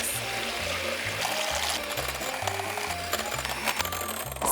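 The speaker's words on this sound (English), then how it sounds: "beat the egg whites with a hand mixer until you get stiff peaks" An electric hand mixer whirs steadily while beating egg whites to stiff peaks, a continuous buzzing motor with rhythmic shifts as the beaters move through the bowl, close and fairly loud throughout.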